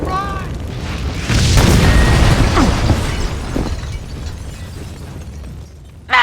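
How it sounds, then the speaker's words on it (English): A building blows up in a Max Payne 2 cutscene: a loud, close booming blast with shattering debris and rumbling that slowly fades, then a sudden new burst at the very end. "The building's blowing up."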